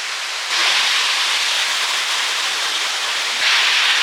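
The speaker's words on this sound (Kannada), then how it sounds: "ನೀರು ಬೀಳ್ತಾ ಇದೆ ಫಸ್ಟ್ ಮೊದಲಿಂದ" A three-step waterfall in Meghalaya roars in a steady, dense rush of water, loud and continuous throughout with no pauses.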